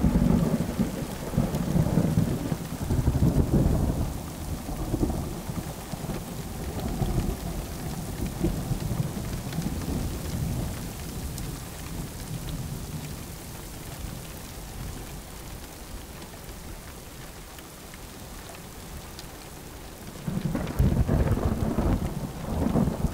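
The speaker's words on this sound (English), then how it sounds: "I've never ever seen this sort of size rain shower in Western Australia" A heavy rain shower pours down in Western Australia, a dense steady hiss with deep rumbling thunder rolling through, loudest at the start and swelling again near the end.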